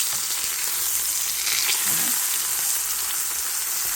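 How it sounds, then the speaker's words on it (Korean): Semi-dried flounder fries in a pan over high heat, giving a steady, close sizzle with fine crackling that runs unbroken for the whole stretch and has no talk over it. "살짝 튀기듯이 익혀주세요"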